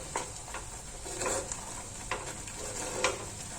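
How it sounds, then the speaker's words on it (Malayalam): Spice powders for a Kerala-style curry frying in a pan while being stirred, with a soft steady sizzle and light scraping strokes of a spoon recurring every second or so, close and fairly quiet. "അതുവരെ ഒന്ന് ഇളക്കി കൊണ്ടിരിക്കുക കുറച്ച് നേരം."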